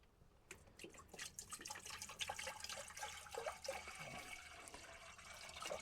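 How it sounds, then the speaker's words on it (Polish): Water is poured from a village water canister in a cramped farm kitchen in Portugal. The faint, continuous splashing and gurgling goes on with no talk. "Wlewamy wodę z baniaka z wioski."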